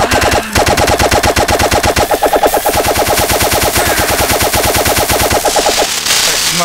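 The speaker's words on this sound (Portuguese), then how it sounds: "metralhadora!" Video-game machine gun fire blasts in a rapid, continuous stream of loud, close shots with echoing tails, pausing briefly after the first shot and then running steadily for several seconds.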